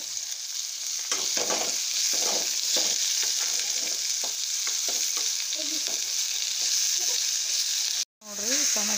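Tomatoes sizzling loudly in a hot frying pan with green chillies as a spoon stirs them, scraping clicks breaking through a steady hiss that cuts out briefly near the end.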